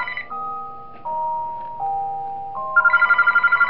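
A phone rings in the horror game Those Nights At Wario's 3: a steady electronic ringtone of sustained tones that shift pitch every second or so, ending in a quick pulsing trill. There is no talk.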